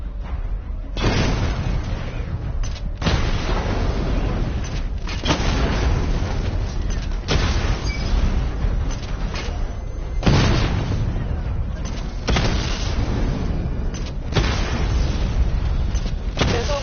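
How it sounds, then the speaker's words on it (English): Missile barrage explosions in a video game arrive as repeated heavy booms roughly every two seconds, loud and close over a continuous rumbling bed of game noise. "Charge the missile barrage to level 2 to destroy up to 4 targets at once."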